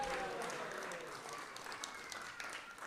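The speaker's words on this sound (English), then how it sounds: "Let's give a big round of applause for Mahavaraha." Faint, scattered applause rises from a temple congregation, soft and somewhat distant, thinning and fluttering over a few seconds.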